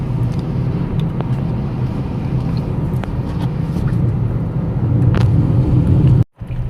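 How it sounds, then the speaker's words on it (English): A Hyundai Venue S+ drives over a very bad road, its cabin filled with a steady low rumble of tires and suspension, sharp knocks and rattles from bumps, and a brief dropout near the end. "I'm currently driving on a very bad road"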